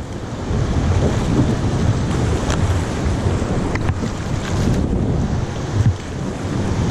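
Raft being paddled through rapids on the Ganges, a loud steady rush of churning water and wind buffeting the microphone, with occasional splashes, continuous and close throughout.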